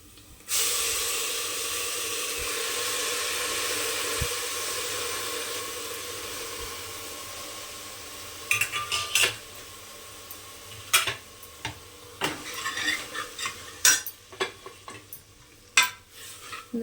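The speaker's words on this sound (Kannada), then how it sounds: "ನುಗ್ಗೆ ಸೊಪ್ಪು ಸ್ವಲ್ಪ ಫ್ರೈ ಆಗಬೇಕು ಚೆನ್ನಾಗಿ ಎಣ್ಣೆಗೆ" Drumstick leaves frying in oil with onions, stirred in a pan for a Kannada-style greens saaru: a steady loud sizzle and hiss, then sharper scraping and clacking stir strokes over the continuing frying, with no talk.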